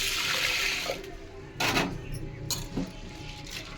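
Water poured over toor dal in a pressure cooker for washing, a splashing rush at first, then quieter swishing with a few sharper sloshes as the lentils are rinsed.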